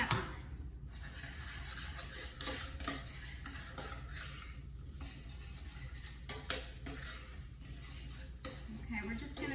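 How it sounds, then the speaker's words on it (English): Utensil stirring white sauce for chicken pot pie in a pan, scraping and clinking against the metal in repeated strokes over a faint sizzle, close and steady. "we're going to stir that up really quick."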